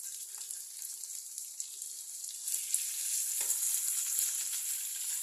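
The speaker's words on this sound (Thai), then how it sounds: "พอพริกแกงเริ่มมีกลิ่นหอมแล้ว เราก็ ใส่หมูสับลงไปได้เลยนะครับผม" Minced pork sizzling and frying with curry paste in a pan, a steady bright hiss that swells louder midway, with occasional stirring scrapes and no talking.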